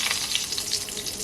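Whole dried red chillies and bay leaves crackle and sizzle in hot oil in a quick, dense burst of frying, close and alone.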